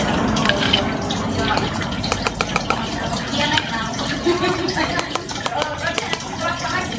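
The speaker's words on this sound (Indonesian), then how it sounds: "ini sudah saya masukkan pemutihnya" Undiluted bleach is poured into a container for a school science experiment, a close splashing, trickling liquid with drips and small knocks, while a person talks over it.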